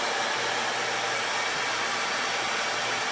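A hair dryer running on its cool setting blows a loud, steady broadband whoosh with a faint low motor hum underneath, close to the listener and unbroken throughout, with no talking.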